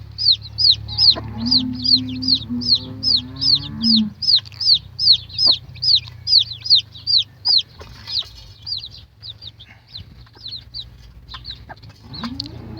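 A steady run of high, rapid peeps from newly hatched chicks repeats through the clip, with a few low hen clucks early on and a low background hum.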